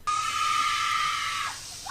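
A woman screams in a long, loud, sustained shriek while being sprayed with a hose as she sits in her car, the cry holding steady before trailing off.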